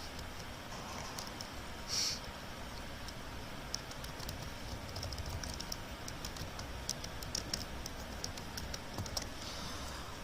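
Steady, quiet tapping on a computer keyboard as a title is typed, a run of light irregular key clicks with a few sharper strikes, close and alone with no talking.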